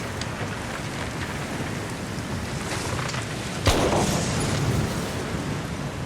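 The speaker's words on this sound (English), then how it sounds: "I heard a gunshot that was pretty close" Steady rain patters throughout, then a single sharp gunshot from a wet black-powder gun cracks nearby, followed by more rainfall.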